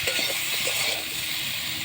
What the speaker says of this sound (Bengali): একটু লাল লাল করে কপিগুলো ভাজবো